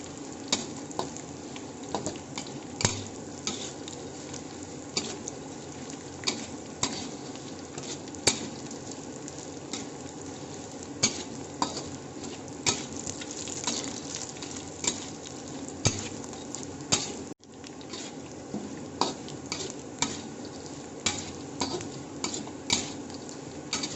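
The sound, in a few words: stirring jengkol balado frying in a pan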